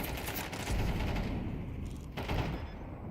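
AK rifle gunfire in an esports match of a first-person shooter video game, with dense, loud bursts of shots and overlapping fire running steadily throughout.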